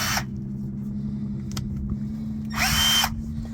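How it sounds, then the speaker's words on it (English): A power drill runs steadily through a plumbing rebuild on a Moen faucet puller, holding a constant motor hum for several seconds, with brief bursts of louder grinding at the start and again near the end. "let's get this sucker drilled"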